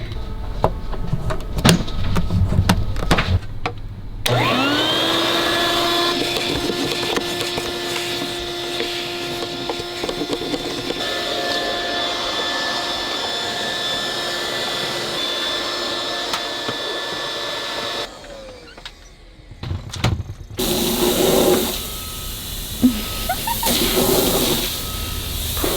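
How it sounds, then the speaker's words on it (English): A vacuum cleaner switches on with a rising whine and holds a steady, loud drone, cuts off, then clatters back as the small nozzle is moved around a pantry. "now we can vacuum you out."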